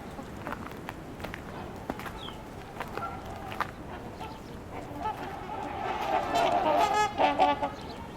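Trumpeter swans honk in scattered calls near a beach and parking lot, the calls growing louder and more clustered toward the end, with faint footsteps and ambient outdoor noise.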